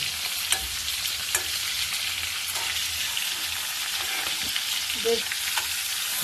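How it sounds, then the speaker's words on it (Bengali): Fish frying lightly in a pan for a coconut-free malaikari, a steady close sizzle and bubbling throughout with occasional soft stirring scrapes, no talk. "হালকা হালকা ভাজছো"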